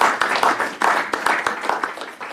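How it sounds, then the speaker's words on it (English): Applause breaks out at a council ordinary meeting: a dense, steady patter of many hands clapping at once, fairly close and loud, holding for a couple of seconds with no talk over it. "maybe we have a round of applause for Poppy and Kayla."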